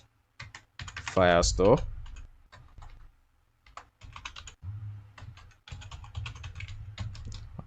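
Rapid clicking of keys being typed on a computer keyboard while entering code, in irregular bursts under and between a man's speech.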